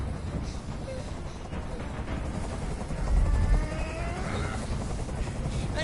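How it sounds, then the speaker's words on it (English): A helicopter in the video game Detroit: Become Human thrums overhead as a low, rumbling rotor drone under a dense layer of game ambience, swelling briefly louder midway. "I can't stand that noise anymore. Tell that helicopter to get out of here."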